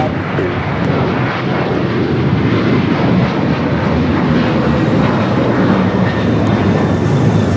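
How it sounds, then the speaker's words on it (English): An Alaska Airlines Boeing 737-900ER takes off at LAX for Seattle, its jet engines a loud, steady, broadband roar that holds strong and close without a break. "This takeoff is Alaska Airlines 1305, taking off to Seattle, Washington on the 737-900ER."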